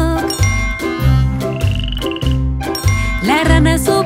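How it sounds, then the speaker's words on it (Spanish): A cartoon frog croaks in a rhythm inside a bright children's song in Spanish set to Hickory Dickory Dock, its croaks falling in time over a bouncy bass line, with a short tinkling jingle partway through, loud and up front. "Una rana."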